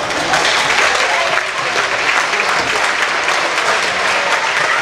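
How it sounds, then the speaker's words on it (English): Audience applause in a school gym during a semifinal volleyball tournament at Franklin Road Christian School, a steady, dense wash of many hands clapping at once, sustained loudly for about five seconds. "Let's give them a round of applause as well."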